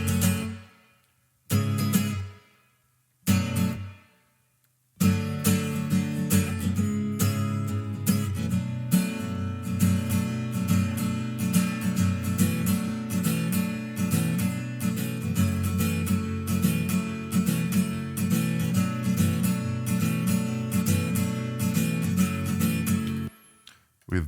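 Group of acoustic guitars treated with plate reverb in a band mix, starting with a few short stop-start strums, then a steady strummed chordal pattern ringing on for about twenty seconds, no voices.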